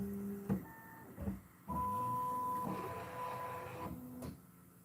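Bambu Lab X1 Carbon 3D printer heating its bed and moving, giving a steady electrical hum, sustained motor tones that shift pitch, and a few short thumps as parts stop, with no talk.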